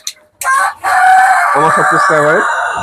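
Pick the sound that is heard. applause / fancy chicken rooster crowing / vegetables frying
fancy chicken rooster crowing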